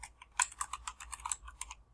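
Rapid keyboard typing, a run of crisp plastic key clicks at an uneven pace, close up against a quiet background.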